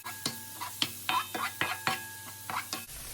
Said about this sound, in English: Go ahead and mix and scrape some of those drippings off your pan.